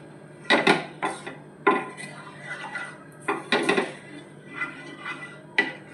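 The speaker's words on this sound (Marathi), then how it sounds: "चांगलं मिक्स करून घ्यायचं." Close, irregular clatter of a utensil scraping and knocking in a pan as white sauce cheese pasta with milk is stirred, bursts of rubbing and tapping with short pauses, no talk.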